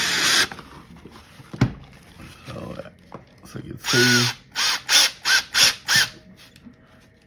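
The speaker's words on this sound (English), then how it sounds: "now I'm just going to drill it a little bit" Power drill driving self-tapping exterior wood screws into wood, a near, loud series of short whirring bursts, first one long run then five quick pulses, with someone speaking briefly beforehand.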